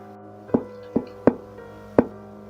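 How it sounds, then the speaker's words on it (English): Knocking on a door, four separate hollow knocks spaced irregularly, close and fairly loud against a quiet background. "Taka knocked the door again and..."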